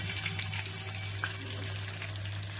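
Fish pieces fry in a pan with a steady, close sizzle and faint crackles over a low hum, no speech.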